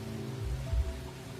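Steady rain falling in a video game scene where guards stand watch at night, a continuous low wash of drops with a brief louder swell midway, no voices.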